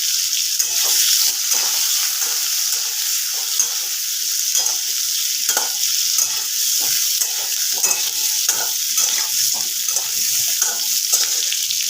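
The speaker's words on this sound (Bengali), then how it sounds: "তেলটা গরম হয়ে গেছে এর মধ্যে দিয়ে দেব সামান্য একটু হলুদ গুঁড়ো আর দিয়ে দেব কেটে রাখা আলু পটলগুলো" Cubed potatoes and pointed gourd fry in hot oil with turmeric powder, giving a loud, steady sizzle, broken by repeated stirring scrapes in an irregular rhythm, with no voices.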